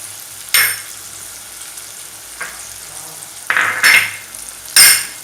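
Tadka sizzles in a pan for Punjabi-style dal tadka, with several sharp, loud bursts of frying as it is stirred. Quieter gaps fall between the bursts.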